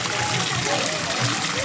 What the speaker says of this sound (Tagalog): May tubig din mga kabisita o nagkaso-aso.